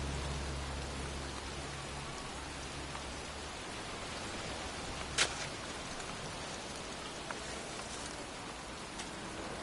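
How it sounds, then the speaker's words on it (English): Steady, even rain falls throughout a video game scene, a dense hiss with a low rumble underneath for the first half and one brief brighter patter near the middle. "It's raining."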